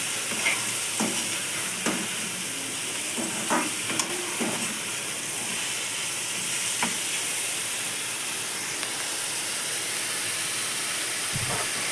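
Mushrooms for a curry fry in a pan with a steady hiss across the whole stretch, and a spoon or spatula stirring them makes occasional scrapes and clacks.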